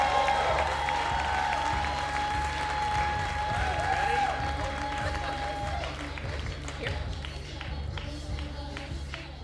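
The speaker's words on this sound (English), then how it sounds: "Big round of applause for Jennifer." A crowd at a Moth Grand Slam storytelling event in Detroit applauds and cheers as a storyteller comes up, a broad, sustained clapping over a steady tonal backdrop that thins slightly toward the end.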